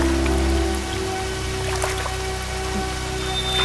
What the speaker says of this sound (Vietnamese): Đang nắng chang chang tự nhiên mưa làm sao?